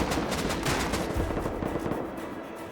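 Sustained gunfire during a base raid in the survival game Rust, with rapid overlapping bursts and distant shots forming a dense continuous crackle that stays fairly steady throughout.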